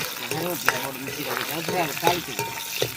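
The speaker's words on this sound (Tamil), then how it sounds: "அந்த உள்ளி பொரிய நல்ல வாசமாக இருக்குண்ணே" Garlic frying and being stirred in a pan while cooking a Jaffna-style tuna fish curry: busy sizzling with scraping stir strokes, and a voice talks over it.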